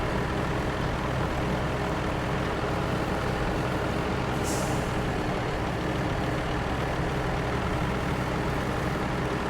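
A Paystar truck in the SnowRunner video game reverses along a straight road. Its engine holds a constant, loud, close diesel drone, and a short hiss from an air brake cuts in midway.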